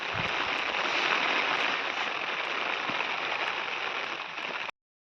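Heavy monsoon rain pours down in the Konkan countryside, a dense, steady hiss that holds for several seconds and then cuts off abruptly.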